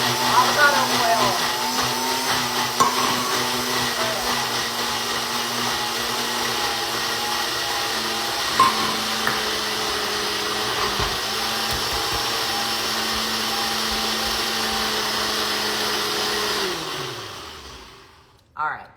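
A blender whirs loudly and steadily while blending ingredients with avocado oil, running for about seventeen seconds before it winds down and stops.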